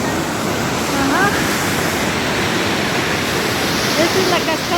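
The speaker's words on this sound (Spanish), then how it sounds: "Esta es la cascada Turno Faccia con toda su fuerza del río Yacachi." The Turno Fakcha waterfall on the Oyacachi river roars loudly and constantly nearby, a dense wash of rushing water with a few faint bird chirps barely audible above it.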